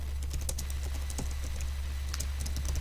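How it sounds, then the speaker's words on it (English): Keys on a computer keyboard clack in quick, uneven bursts as a git command is typed, close and fairly crisp over a steady low electrical hum. "we're going to type in checkout, git checkout"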